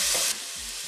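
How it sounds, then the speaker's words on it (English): Garlic hitting a hot pan, a brief loud hiss that drops after a moment to a softer, steady sizzle, heard close with no talking. "I'm going to saute my garlic and onions"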